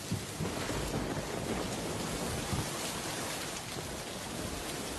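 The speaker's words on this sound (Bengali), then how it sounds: "বাহিরে ঝমঝম করে বৃষ্টি শুরু হয়ে গেল" A heavy downpour of rain pours down in a steady, dense roar without pause, loud and continuous, with a low rumbling undertone.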